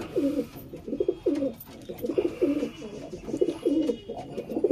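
Repeated soft, low cooing from pigeons close by, several overlapping rounds of throaty coos running throughout.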